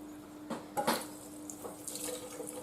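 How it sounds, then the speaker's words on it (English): A carbon steel kitchen knife gets a quick rinse under a running tap, soft splashing and trickling water at low level with a few brief gushes, no voices. "Quick rinse under clean water."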